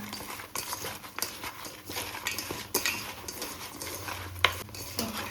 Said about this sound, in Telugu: బాగా కలుపుతున్నారు